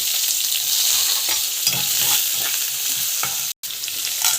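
Onion, mustard seeds, cumin, curry leaves, green chilli and dal frying in hot oil for a mango thokku, a steady loud sizzle with stirring scrapes, briefly cut off near the end.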